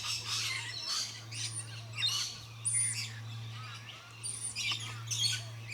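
Nectar-eating friarbirds call in a rapid series of bright chirps and squawks over a steady low hum.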